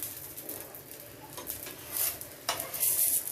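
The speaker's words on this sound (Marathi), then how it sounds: "वरून आंबोळी शिजत आली की आपण असं बाजूने तेल सोडून घ्यायचंय।" Amboli rice pancake sizzles in oil on a hot pan, a faint steady crackle with soft scraping and stirring noises from the pan surface.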